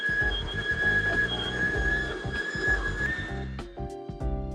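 Fellow Opus electric coffee grinder running, a fairly quiet steady mechanical whir with a high whining tone on top and a shifting grinding rumble beneath, heard alone and changing pitch toward the end.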